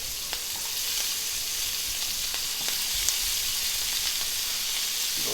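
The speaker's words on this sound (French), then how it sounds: "Maintenant, la poêle est chaude. On met un peu la moitié des légumes." Vegetables dropped into a hot pan for a veal tendron dish fry with a steady, loud sizzle and hiss, with scattered small crackles and pops throughout.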